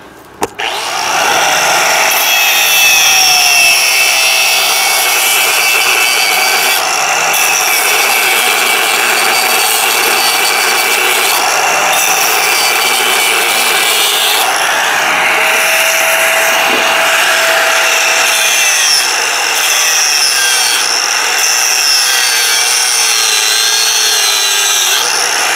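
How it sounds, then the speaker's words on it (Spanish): Power tool cutting through a welded ABS brake sensor bracket on a rear axle, a loud continuous grinding, sawing rasp that runs steadily for the whole stretch with slight shifts in pitch as the cut progresses. "vamos a despegar de allí el soporte de sensor frenos ABS, que no lo necesitamos en este caso. Tiene dos puntos de soldadura."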